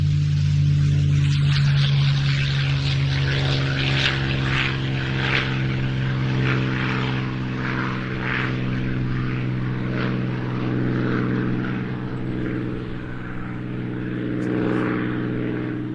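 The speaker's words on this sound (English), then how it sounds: "I'll shut up for the Mustang departing." P-51 Mustang propeller fighter departing at the Duxford air show, its engine a loud, steady droning roar with a strong low hum that holds throughout and swells slightly toward the end.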